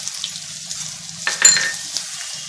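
A medium tomato dropped into hot tempering oil with turmeric and chilli powder gives a sudden burst of close sizzling that fades into a softer fry over a low hum.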